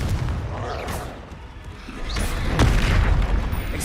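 Confringo fire spell from Hogwarts Legacy explodes as a loud, rumbling boom with crackling debris, followed by a second blast that swells and lingers near the end of the clip.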